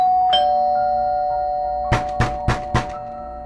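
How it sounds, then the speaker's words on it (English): A doorbell chime sounds once near the start, then four loud, evenly spaced knocks or thuds land close together over a steady low background hum. "He hears the doorbell."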